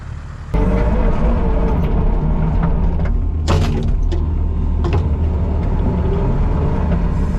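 Mowing machine engine runs loud and close while clearing brush on a farm, a constant heavy drone that kicks in abruptly after a short quieter start, with a few knocks and rattles from the cut growth.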